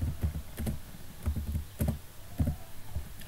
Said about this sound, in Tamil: உங்களுடைய மொபைல் நம்பரை கரெக்டாக டைப் பண்ணுங்கள்.